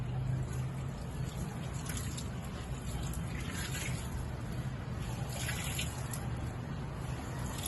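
Water runs and sloshes steadily through the final rinse of a load of laundry, a continuous close wash of noise with faint splashy bursts and no voices.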